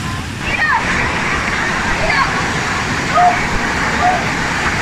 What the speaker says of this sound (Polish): Nadia, idziesz na wodospad?